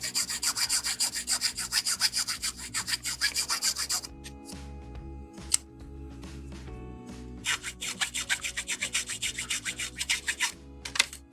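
Gentle rubbing on a plastic part from a 1/72 HG Bandai model kit wears down a sprue nub, giving quick rhythmic raspy strokes close up, then a pause with light handling before the rubbing resumes.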